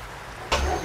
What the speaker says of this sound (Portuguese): Tá chovendo aí pra ti, ô Luiz.